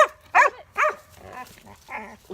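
A pet dog barks a few times at close range, sharp yips in quick succession, in a home kitchen during mint water preparation; no one speaks.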